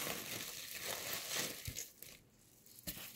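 Roast beef pieces being wrapped one by one in plastic for the freezer, with close, quiet crinkling and crumpling of plastic and a few soft knocks as the pieces are handled.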